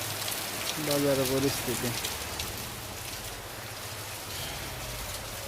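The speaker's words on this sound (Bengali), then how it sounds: "পুরা বাজার অনেক বৃষ্টি হচ্ছে" Heavy rain pours over a market with mostly shuttered shops, a constant dense hiss running throughout. A voice speaks briefly near the start over the downpour.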